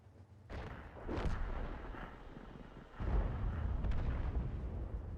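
Heavy artillery fire in a video game match sounds as two deep, booming blasts with long rumbling tails, with no talking.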